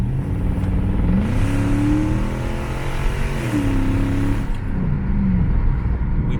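A repaired car engine, recently stuck in limp mode, revs up and accelerates loudly and close by, rising in pitch twice with gear changes between, over steady road rumble.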